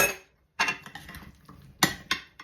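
A bean salad with a honey dressing being mixed in a bowl with a utensil, giving a few short clinking, scraping bursts separated by brief pauses, close and clear with no talking.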